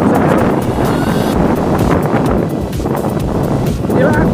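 Strong wind buffets the microphone in a village near the erupting Semeru volcano, a loud, continuous broadband roar with gusty swells throughout, and a voice talks over it.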